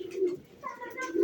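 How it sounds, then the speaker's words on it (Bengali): Several pet pigeons, including new adult males, coo close by under an overcast sky, deep throaty coos mixed with brief higher calls, a voice speaking in between. "এই যে আমার কবুতরগুলো একটু আপনাদেরকে দেখাই"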